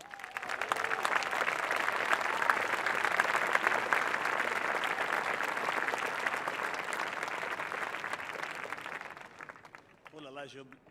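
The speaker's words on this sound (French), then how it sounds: "Je vous demande d'applaudir Vic Moniz." A large outdoor audience in an ancient Roman theatre in Arles gives sustained, dense applause for an artist, holding steady for about nine seconds before fading out, followed by a brief spoken voice at the end.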